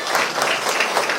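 Students applauding a guest teacher in an Indonesian classroom, a short burst of brisk clapping from a group, close and fairly loud, with no pause in the patter.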